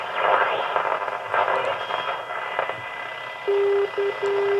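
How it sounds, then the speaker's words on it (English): A 1936 Bush battery radio picks up a navigation beacon, a steady Morse tone keyed in short bursts after a few seconds of hissy, crackling static. "But I'm getting that navigation beacon again."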